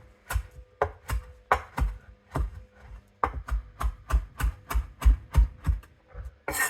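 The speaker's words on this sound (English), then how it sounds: "I'm going to cut up some cilantro" Knife roughly chopping cilantro on a cutting board, about fifteen crisp knocks in an uneven rhythm with a short pause midway, close and clear without talk.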